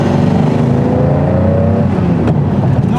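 A 1988 Ferrari Testarossa on the move, its engine a steady, loud drone from inside the cabin with a slight rise in pitch, continuous throughout and with no talk.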